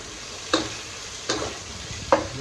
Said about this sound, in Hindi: इसमें मैंने डाला है अदरक, लहसुन, जीरा, देसी घी में तड़का लगा रही हूँ।